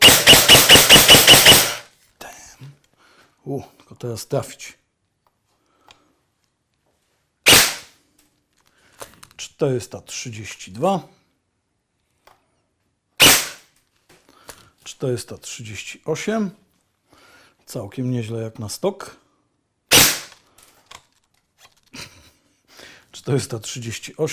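A G&G M4 Predator airsoft rifle fires single sharp shots, three loud isolated cracks spaced several seconds apart, with someone talking in Polish between them.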